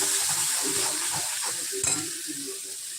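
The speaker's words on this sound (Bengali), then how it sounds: "সেই জন্য আমি এখানটা একটু এটা ভাজা ভাজা করে নিচ্ছি" Ingredients for an oats recipe fry in a pan, giving a steady, fairly quiet sizzle with soft stirring scrapes throughout.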